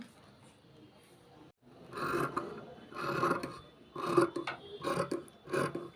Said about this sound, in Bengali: আমি একটা কুর্তি কাটিং করছি